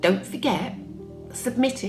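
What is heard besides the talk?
No everyday noises stand out.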